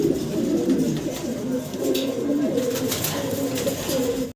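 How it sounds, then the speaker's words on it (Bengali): Magpie pouter pigeons, a fancy breed, coo steadily in low, overlapping murmurs close by, with a soft continuous flutter and rustle of the birds in the background. "ভিডিও স্ক্রিনে আপনারা দেখতেছেন চমৎকার পটার কবুতর, ম্যাকপাই পটার"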